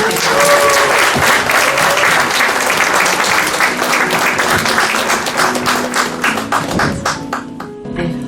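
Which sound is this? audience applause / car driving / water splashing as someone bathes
audience applause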